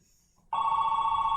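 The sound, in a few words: telephone ringing in a played recording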